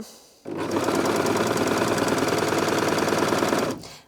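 A Bernette b64 Airlock overlocker runs at steady speed under the presser foot, a loud, even, rapid mechanical chatter lasting about three seconds before stopping abruptly, with no talking.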